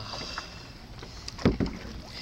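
Paddle strokes splash and churn water beside a small rowing boat, two quick, close strokes standing out against a low steady background.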